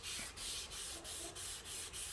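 Hand sanding a scratch on the plastic rear fender of a 2016 Jeep Cherokee with light pressure: a soft, rhythmic back-and-forth scrubbing of about seven even strokes, close and quiet.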